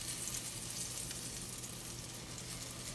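Cornmeal-coated dandelion flowers fry in oil with a faint, steady crackling sizzle that holds evenly throughout, no voices.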